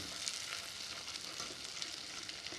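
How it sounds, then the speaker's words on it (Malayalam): Butter melting over a very low flame in caramelized sugar gives a steady, soft sizzle that runs on evenly without pause, close by and with no one talking. "ബട്ടർ ഇങ്ങനെ ഉരുകി വരുന്നോണ്ടിരിക്കുമ്പോഴത്തേക്കും"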